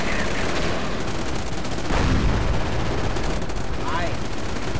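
Gunfire from a unit in the real-time strategy game Company of Heroes, sustained loud machine-gun bursts and battle noise running throughout, with a bigger blast near the middle.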